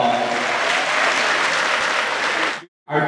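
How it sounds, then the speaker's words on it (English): An audience claps loudly and steadily for a few seconds, then the applause cuts off abruptly before resuming. "Let's give them a round of applause"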